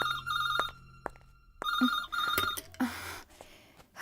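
A telephone bell rings in short repeated bursts during a dubbed Hindi romantic film scene, loud and close, with gaps between rings.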